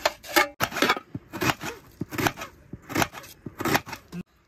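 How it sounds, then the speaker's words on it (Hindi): An onion is chopped with a knife while cooking bamboo chicken in a village, making a quick series of about eight crisp, close knocks at an uneven pace, with no talk. "काटिले पियाज ठक ठक ठक"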